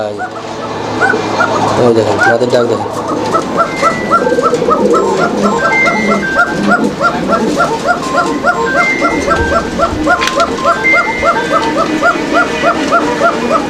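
A female Shalik Koka pigeon calls loudly and close by in a fast, steady train of repeated notes, going on without pause against other bird sounds.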